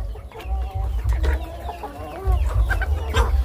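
Several chickens cluck and chatter close by in overlapping calls, over a low rumbling background.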